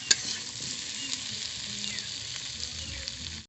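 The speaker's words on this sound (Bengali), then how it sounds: "আলু বেগুন একসঙ্গে ভালো করে ভেজে নেব।" Potatoes and eggplant frying together in a pan, a steady loud sizzle with a short stirring clatter near the start, heard alone until it cuts off.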